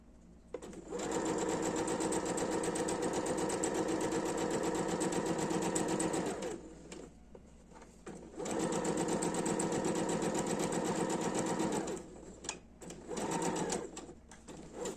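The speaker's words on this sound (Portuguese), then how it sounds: "vou passar uma costurinha aqui com essa parte virada para baixo" Sewing machine stitching fabric for a small pouch, running in two long steady bursts with a short pause between them, then a brief final run, close and fairly loud.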